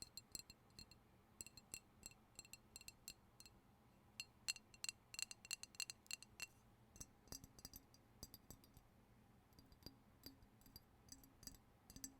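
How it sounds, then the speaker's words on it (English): Small glass objects clink and tap in quick irregular clusters, sharp bright ticks close to the microphone and fairly quiet, with no voices. "there was the glass chappy tappies"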